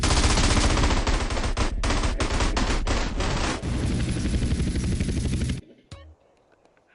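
Rapid bursts of automatic gunfire in GTA San Andreas, loud and dense for several seconds before cutting out abruptly to quiet game ambience.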